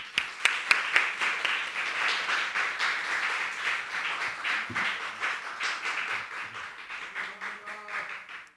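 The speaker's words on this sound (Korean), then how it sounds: "나오실 때 큰 박수로 모시겠습니다" A church congregation at a Sunday morning service claps steadily and warmly to welcome the pastor. The applause is sustained and fairly loud, thins toward the end, and a few voices come through faintly.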